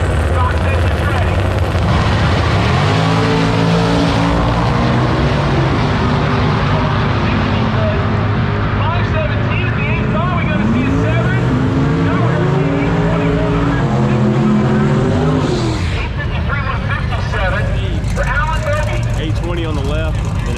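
Naturally aspirated big-block 1968 Camaro and a 1972 Camaro at a drag race, loud engines revving and droning with rising and falling harmonic sweeps, running close and continuous throughout.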